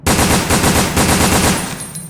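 Rapid, steady burst of weapon fire from Bruce's gun in Resident Evil: Dead Aim, loud shots repeating quickly for about two seconds before trailing off, with no talking.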